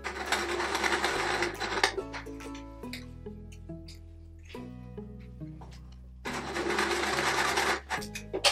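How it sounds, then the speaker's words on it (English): Sewing machine stitching patchwork quilt squares together, running in loud steady bursts with a brief quieter stretch in the middle, close to the microphone with no voices. "I'm going to start with sewing together the four in the center."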